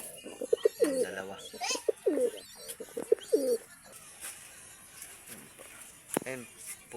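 Several pigeons coo in a loft at close range, their soft rolling calls repeating in short bursts, while someone talks over them.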